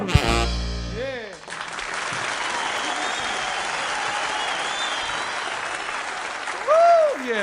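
Loud, steady applause from a live audience at a music performance, rising right after a song ends and sustained for several seconds before a voice briefly cuts in near the end.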